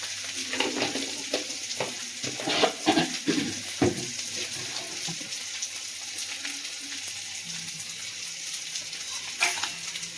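Salt and chilli powder being stirred into an aubergine curry in a pan, with soft scraping strokes and a low sizzle in the first few seconds, then a steady quiet simmer.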